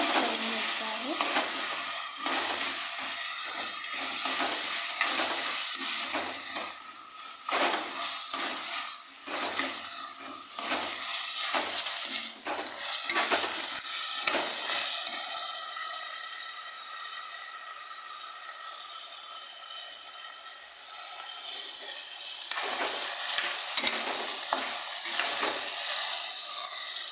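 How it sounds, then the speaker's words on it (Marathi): Food frying in a pan is stirred with repeated scraping strokes over a loud, constant sizzle, the stirring pausing midway before resuming near the end. "मला आपण चांगलं असं ढवळून घ्यायचं आहे."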